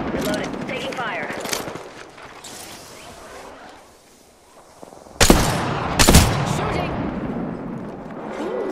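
Rapid automatic gunfire in the Apex Legends video game comes in bursts of crackling shots. It fades to a quiet lull midway, then louder sharp blasts hit near the end, with players talking over the action.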